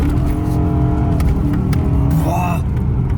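Close and loud, an S65 V8-swapped BMW 1M Coupe roars while drifting, its engine revving hard under steady rumble, with a voice talking over it.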